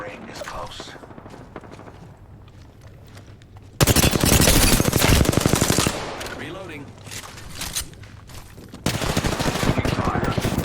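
Rapid automatic gunfire in the Apex Legends battle royale shooter, loud dense bursts that come and go and rise again near the end, with players talking over it.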